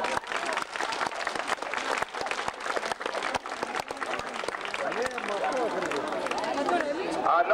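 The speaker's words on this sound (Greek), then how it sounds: "Ένα χειροκρότημα σε εκείνους που το κάνανε" An indoor audience at a protest gathering breaks into sustained, dense applause of many hands clapping, with murmured crowd chatter mixed in toward the end.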